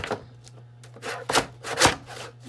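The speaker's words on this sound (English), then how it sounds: "My cutter doesn't even want to cut it" A paper cutter straining against the thick binding of a Golden Book junk journal, with several short scraping, rubbing strokes of rising and falling loudness, close up over a low steady hum, no talking.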